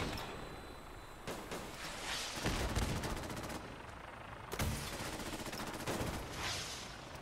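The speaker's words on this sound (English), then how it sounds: "Here, I'll fire a missile at it" Missile and weapon fire in an alien-invasion video game: several loud, broad explosive bursts and crackling blasts arrive in clusters over a steady background din, with no talking.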